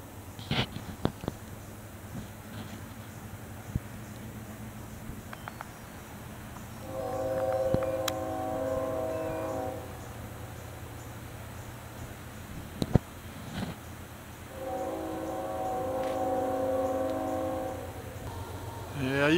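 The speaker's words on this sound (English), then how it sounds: "You can hear them trains a lot further away now the leaves are gone." A distant train rumbles along while its horn sounds in two long, faint blasts from far away over low outdoor background noise, carrying through leafless trees.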